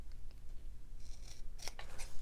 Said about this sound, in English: Just snip that off and snip that off